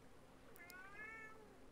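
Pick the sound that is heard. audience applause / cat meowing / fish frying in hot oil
cat meowing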